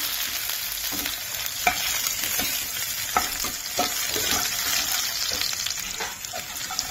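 Onion frying in oil in a home kitchen pan, a steady broadband sizzle with scattered stirring clicks and scrapes throughout, close and fairly loud, no voices.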